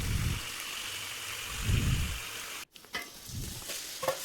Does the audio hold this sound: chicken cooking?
yes